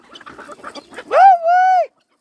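Rare-breed chickens, including Ayam Cemani, on a farm give a run of soft clucks, then a loud, drawn-out rooster-like call close by. No one talks during the call.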